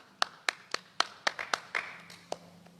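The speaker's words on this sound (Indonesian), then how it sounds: "Berikan tepuk tangan buat Tuhan kita saudara." A church congregation claps along in short, sharp, evenly spaced hand claps, about ten in quick succession, fairly near and with no talking over them.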